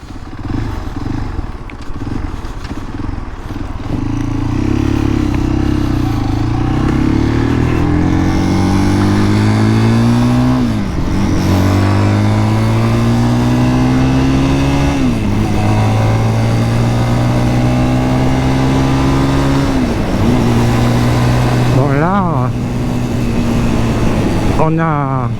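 A 2023 Zontes GK 350 motorcycle ridden with two people aboard drones loudly and steadily, its engine rising in pitch through the gears with brief dips at each shift, heard close under wind noise.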